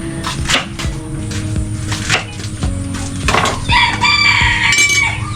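Chickens cluck steadily in a farmyard while a rooster crows loudly near the end, the birds close and continuous with wooden knocks scattered through.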